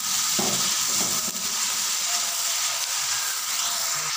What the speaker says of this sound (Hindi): अब हम इसमें सब्ज मिर्च और टमाटर का पेस्ट डालेंगे। ये टमाटर का पेस्ट है और ये सब्ज मिर्च का पेस्ट। इसको अच्छी तरह से भून लेंगे।